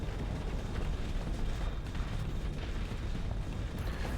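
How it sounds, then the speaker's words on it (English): Dense rumbling barrage of starship explosions in the space combat game Starsector, a continuous loud roar of overlapping booms and bursts with no pauses. "that is so many beautiful explosions"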